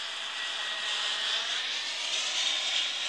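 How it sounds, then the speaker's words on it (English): Airplane flying overhead while descending to land, a steady broad roar of aircraft engine noise holding evenly loud and close throughout, with no talking. "this is the third plane you can see"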